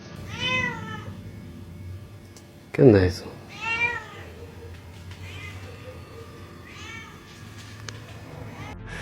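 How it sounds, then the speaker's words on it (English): A cat cries at around 2 a.m., loud drawn-out meows recurring several times with gaps, clear and close against a quiet night background, while a person briefly speaks between the cries. "being woken up by a cat crying"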